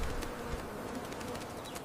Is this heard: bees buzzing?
yes